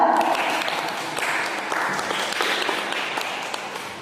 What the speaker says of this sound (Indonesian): Oke, terima kasih dan aplaus untuk kedua kandidat.